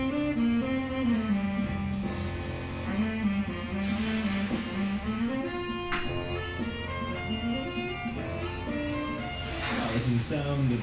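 A big band led by a trumpet player plays a steady swinging jazz passage with brass lines and rhythm section, full and continuous throughout.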